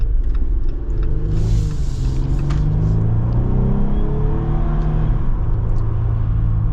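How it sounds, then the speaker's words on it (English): A 2024 Jeep Wrangler under full throttle gives a steady, loud engine rumble and whir that holds throughout, heard from inside the cabin with no talking. "when you're full throttle, it does feel a little bit zippier"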